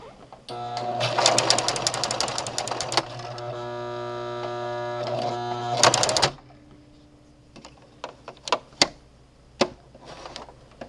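Brother LX3014 sewing machine stitching with a twin needle and flower foot: two bursts of fast mechanical whirring with a steady motor hum between them, then stopping, followed by a few sharp clicks and taps.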